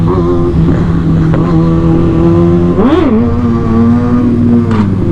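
A motorcycle revs hard during a wheelie, the engine note loud and close, holding a steady buzz, then surging up sharply in one quick blip before settling and climbing again.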